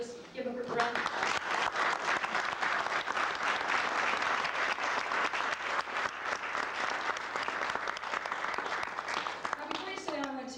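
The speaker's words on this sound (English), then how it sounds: "So please, let's just give them a round of applause." A workplace audience at a company year-end gathering applauds a team that helped meet its fiscal 1997 goals, with steady, dense clapping filling the room for about ten seconds, loud and sustained.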